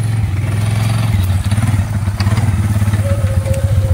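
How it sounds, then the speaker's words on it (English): Four-wheeler ATV hauling a log on a log arch over rough, mounded ground, its engine chugging loud and close with clattering thumps and jolts as the load bumps along. "log number 2 is on his four-wheeler. We're going to get this baby out of here"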